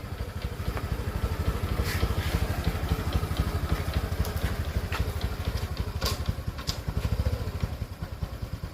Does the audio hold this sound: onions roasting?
no